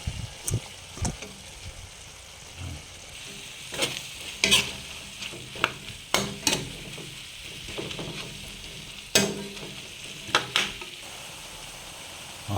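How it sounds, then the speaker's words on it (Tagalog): Bitter gourd (ampalaya) fries in a pan with a low, steady sizzle, punctuated by repeated sharp clatters and scrapes of a spatula stirring against the pan, close by with no talking. "Ihulog na natin yung ampalaya."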